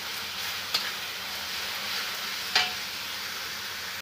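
Meat sautés with sour yogurt in a pan, giving a steady, dense sizzle at close range, broken by two sharp clicks of a utensil against the pan.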